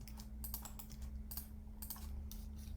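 Quiet typing on a computer keyboard while entering text in Blender, bursts of soft rapid key clicks over a low steady hum, without speech.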